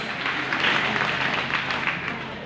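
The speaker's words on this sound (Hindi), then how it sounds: "सबसे पहले हमारा महामेंटर महागुरु जी प्रदीप महागुरु के लिए जोरदार ताली होना चाहिए" A seminar crowd in Bangalore claps for Pradeep Mahaguru, a dense burst of applause from many hands that swells and then tapers off.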